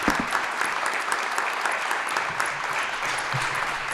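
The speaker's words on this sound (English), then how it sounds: "Let's give the panel a round of applause." Steady audience applause for a panel at an entrepreneurship event, a dense continuous patter of many hands lasting a few seconds.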